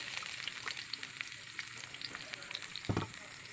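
Seasonings being sautéed in hot oil for a mung bean dish give a steady low crackling sizzle, with a brief louder burst near the end as something more hits the pan.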